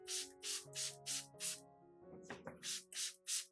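A hand mister spraying an apple peel and garlic solution onto orchid plants, a series of about eight short, evenly spaced hissing spritzes with a brief pause of handling noise midway, close and clear.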